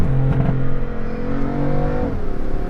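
A manual Porsche turbo car accelerates with a loud, steady engine drone that climbs in pitch, then drops sharply at a gear change, heard from inside the cabin.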